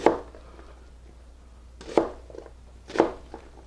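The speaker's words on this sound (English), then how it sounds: "Easy to make onion slices this way" A knife chops through an onion into slices on a cutting board, giving three sharp, close thuds spaced about a second apart against a quiet background.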